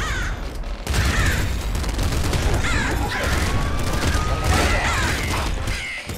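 Rapid video-game gunfire from Nuclear Throne crackles in dense, overlapping bursts, with chirpy effects and a constant busy layer of blasts that runs almost without pause.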